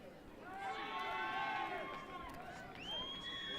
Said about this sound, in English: the crowd is definitely cheering the Dominican Republic team